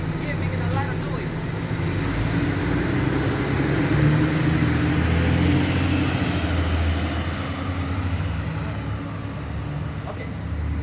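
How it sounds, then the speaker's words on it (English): A large bus rumbles past close by, a steady low engine roar and road noise filling the whole stretch, swelling slightly in the middle before easing off. "you get a big bus here making a lot of noise"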